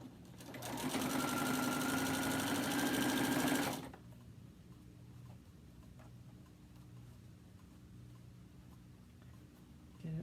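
A sewing machine runs steadily for about three seconds, stitching the joined pieces of a mini quilt, then stops abruptly, leaving quiet room tone with faint movement afterward.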